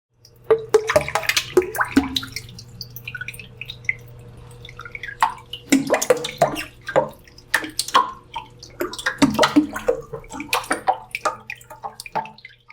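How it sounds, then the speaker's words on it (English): Bursts of splashing and dripping water as a turtle moves in its tank, coming in clusters with quieter gaps, over a low steady hum of a pump. "That was the sound of my pet turtle splashing in his tank to say hi."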